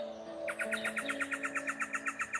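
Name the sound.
small bird chirping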